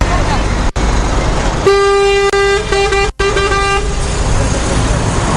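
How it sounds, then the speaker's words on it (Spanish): Aid trucks loaded with food and medicine roll along roads in Gaza, one sounding a long, loud, steady horn blast for about two seconds over heavy engine and road noise, with brief honks around it and voices mixed in. "Ahí van los camiones cargados principalmente de alimentos y también de medicinas."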